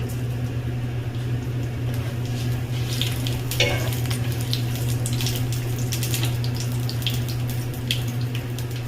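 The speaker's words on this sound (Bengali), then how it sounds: "ফোড়নে দিয়ে দেবো শুকনো লঙ্কা, তেজপাতা, গোটা গরম মশলা।" Dried red chillies, bay leaves, whole garam masala and cumin seeds frying in hot oil, a continuous close sizzle over a steady low hum, with scattered crackles and pops through the middle.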